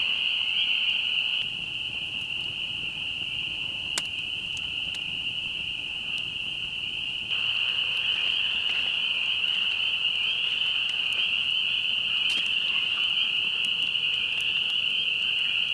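Frogs croaking at night in spring woods, a steady high chorus droning continuously alongside crickets and insects, with faint low rustling underneath and no voices.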